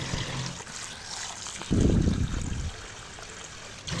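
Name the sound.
washing taro (kochur mukhi) in water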